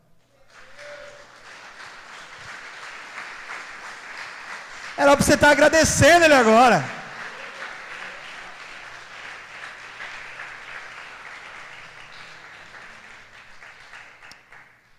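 A church congregation bursts into applause for about two seconds in the middle, loud and dense, set against a preacher's steady amplified speech that runs before and after it.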